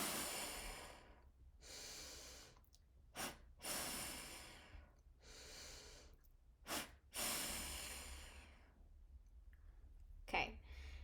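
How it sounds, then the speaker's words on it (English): Deep breathing exercise from a breathwork session, several slow, loud breaths in and out with pauses and a few sharp quick exhales, close to the microphone with no talking. "you're going to do that same breathing 3 to 5 times"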